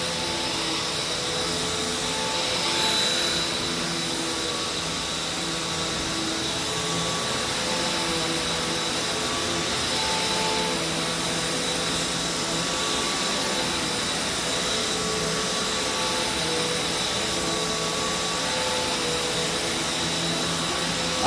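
Hoover Taskvac vacuum cleaner running steadily over carpet, a loud continuous whine and airflow roar with a slight swell near the start, no voices.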